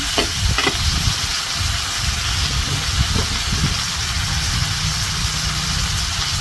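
Pork meatballs stir-fried with chilies sizzle steadily in a pan, a dense close hiss with scraping and stirring clatters throughout.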